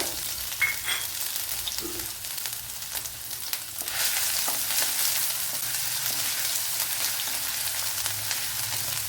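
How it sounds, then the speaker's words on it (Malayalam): Crushed garlic and ginger frying in coconut oil with mustard seeds, a steady hissing sizzle that grows louder and denser about midway through as the aromatics hit the hot oil, with no talk. "ഇതിലേക്ക് ഇനി ചതച്ച് വെച്ചിരിക്കുന്ന വെളുത്തുള്ളി ഇഞ്ചി ചേർത്ത് കൊടുക്കുക"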